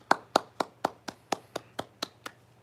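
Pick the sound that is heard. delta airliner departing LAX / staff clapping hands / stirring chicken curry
staff clapping hands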